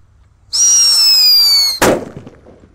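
Black buster firecracker, also called a thunder cracker: a loud rising whistle for over a second, then one sharp close explosion with a short decaying crackle.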